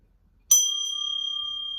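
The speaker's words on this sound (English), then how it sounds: "So I'll ring a bell." A single bright bell strike rings out after a short silence, its clear tone sustaining and slowly fading with a slight shimmer.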